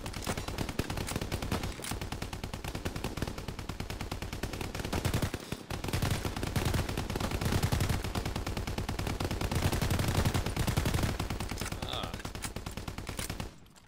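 An automatic weapon in Call of Duty fires a long, steady stream of rapid shots with the trigger held down, the rattling bursts loud and continuous for about fourteen seconds, with only a brief gap.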